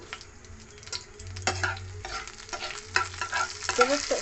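Close-up stirring of a pinch of asafoetida frying in hot oil with cardamom and cinnamon for a soybean dal, a soft sizzle under repeated spoon scrapes and clicks against the pan.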